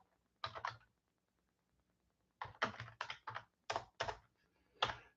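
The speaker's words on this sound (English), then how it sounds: "If I can type." Typing on a computer keyboard, close by, in three bursts of quick key clicks separated by pauses, with quiet between the bursts.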